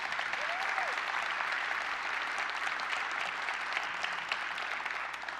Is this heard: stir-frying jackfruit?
no